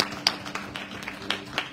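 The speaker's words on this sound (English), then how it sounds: "Give her a hand clap of praises." Church congregation clapping during Sunday worship, a sparse, fairly quiet patter of scattered hand claps with a few sharper individual claps standing out.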